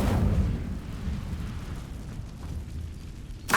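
An Incendio fire spell in the Hogwarts Legacy video game lets out a whooshing, roaring burst of flame that fades into a steady rumble, with a sharp crackle at the end.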